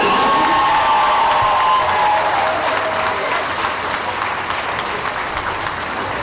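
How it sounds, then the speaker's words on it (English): A county fair crowd at a royalty contest bursts into loud, dense applause with cheering and a few whoops, sustained throughout and fading only slightly at the close. "let's give all of them a big round of applause"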